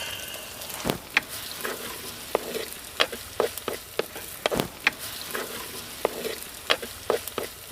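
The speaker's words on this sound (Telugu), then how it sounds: "ఉల్లిపాయ ముక్కలు కలర్ మారాక టమాటా పేస్ట్ వేసుకుని ఒకసారి అలా కలుపుకొని ఒక అర చెంచా పసుపు కూడా వేసుకుని కలుపుకుందాం." Onions frying with tomato paste and turmeric in a pan, a continuous sizzle broken by repeated irregular scrapes and taps of a spoon stirring the mixture, close and clear, without speech.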